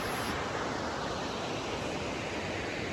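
Waterfall at Grassi Lake roars as a dense, steady broadband rush of falling water, constant and fairly loud, with no voices over it.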